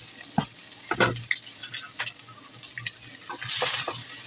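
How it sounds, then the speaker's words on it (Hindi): Sliced onions frying in hot oil over a high gas flame, a steady close sizzle with scattered spatters and brief stirring clatter, swelling louder near the end. "और अब ऑयल हमारा गर्म हो चुका है, प्याज भून लेंगे सबसे पहले।"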